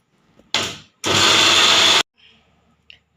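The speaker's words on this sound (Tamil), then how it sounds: "நம்ம தக்காளி அரைக்க போகிறோம்" Mixer grinder pulsing on tomatoes for chutney: a short burst, a brief pause, then a sustained loud whirring grind of about a second that stops abruptly, with quiet rattles afterward.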